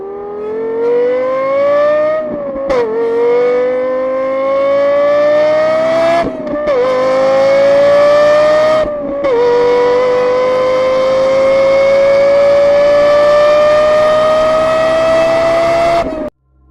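Lexus LFA engine revving hard through acceleration, a loud high-pitched wail climbing steadily in pitch with brief dips at each gear change, heard alone with no talk.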